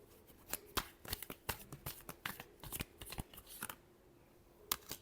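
Tarot cards are shuffled by hand in crisp, rapid riffling bursts with sharp flicks and snaps, close and clear with no talking.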